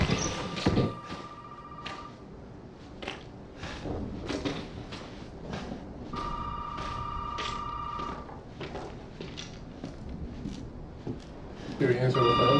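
An in-game telephone rings in the horror game Resident Evil 7, a repeating electronic ring heard in bursts between footsteps and clunks, with people talking over it.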